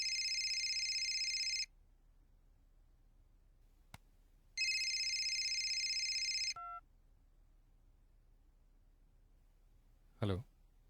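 Two bursts of an electronic phone ringtone, a trilling warble separated by silence, followed by a short beep and a faint brief sound near the end.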